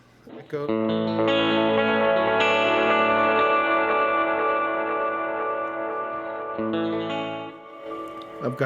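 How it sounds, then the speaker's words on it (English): A guitar played through an echo effect pedal on a pedalboard, a loud sustained chord ringing with repeating delayed tails, then a second strummed chord fading out. "Echo."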